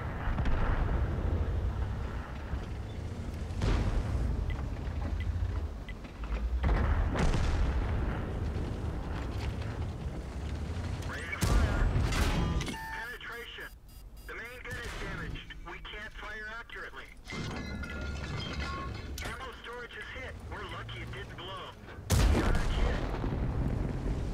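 Tank cannon blasts and battle rumble from World of Tanks gameplay in the Frontline mode, with heavy booms over a constant loud roar while someone talks over the action.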